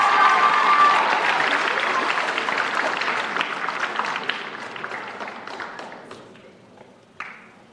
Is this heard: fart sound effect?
no